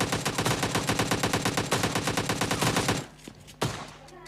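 Rapid burst of loud, evenly spaced shotgun blasts from the video game PUBG Lite, about three seconds of continuous fire, then quieter game ambience with one more sharp report.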